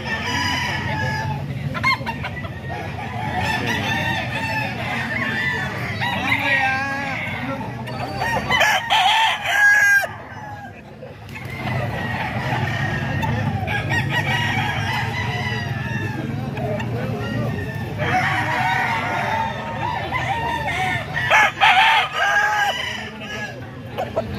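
Gamecock stags, about two years old and of a ball stag line, crow and cluck repeatedly among other fowl, loud and near, with several overlapping calls and a brief quieter gap midway.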